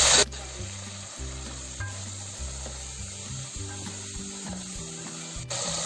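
Four medium-cut tomatoes sauté in a pan for a black-eyed pea kurma, a constant close sizzle with a loud splash as they drop in, then scraping stirs and a repeating low mechanical hum underneath.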